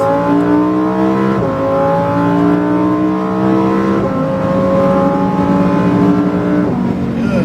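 A Lamborghini STO on a race track accelerates hard, its engine note rising steadily through each gear with brief dips at every upshift, loud and close throughout.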